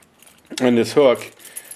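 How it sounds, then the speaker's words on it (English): Bunch of keys clipped to a carabiner hook, jangling in two close, bright metallic bursts of clinking and rattling, loud and nearby. "And I'll carry my keys like this."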